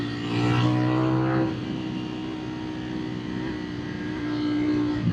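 A 2025 Ducati Streetfighter V4 rides along a bumpy road, a steady, close engine drone with a slight swell and dip in pitch throughout.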